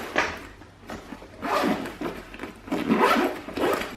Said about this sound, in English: The next zip is this one here.